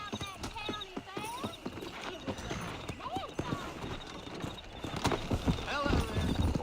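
Horse hooves clip-clop in a rhythmic run in Red Dead Redemption, steady and fairly close, mixed with game sounds while people talk over them throughout.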